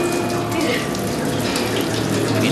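Clean tap water running steadily from a faucet, a continuous close splashing rush with no pauses, at a school recovering after a disaster.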